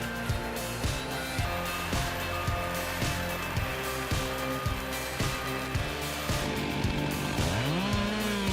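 Chainsaw cutting through a tree, engine whining loudly and steadily with repeated load dips and a revving pitch sweep near the end, alongside heavy tree-removal machinery.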